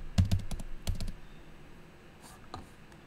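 A file name being typed on a computer keyboard in video-editing software: a quick burst of close, crisp key clicks in the first second, then a few softer taps and a quiet pause.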